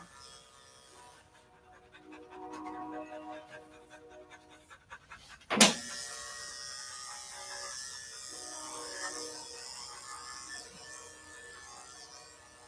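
An English Springer Spaniel pants steadily during grooming, its breathing quick and near, with an electric clipper buzzing and a sharp clatter partway through; quiet background otherwise.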